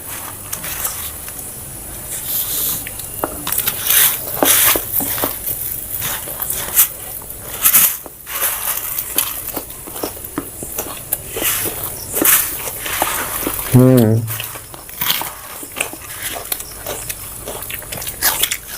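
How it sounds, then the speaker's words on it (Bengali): Someone eats puffed rice (muri) with chicken curry in a big-bite challenge, and close crunchy chewing and biting keep repeating at an uneven pace, with no talking. "মুড়ি তো বন্ধুরা এমনিতেই চিবিয়ে চিবিয়ে খেতে সময় লেগে যায়"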